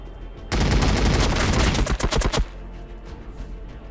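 Heavy automatic gunfire in Warhammer 40K Battlesector, a loud, close, two-second burst of rapid rhythmic shots that ends sharply, followed by quieter background ambience.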